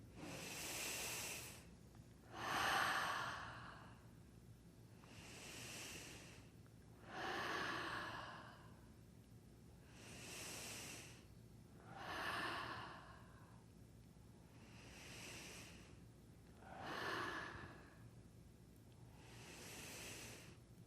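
Slow, deliberate breathing during an energy-medicine exercise with the thumbs pressed to the forehead: about nine alternating inhales and exhales, each a long airy hiss, close and fairly quiet, spaced evenly across the stretch.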